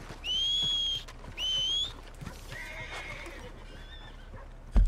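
In Red Dead Redemption 2, a horse lets out two loud, high whinnies close by, then soft hoof clops and faint movement follow, ending on a brief thump.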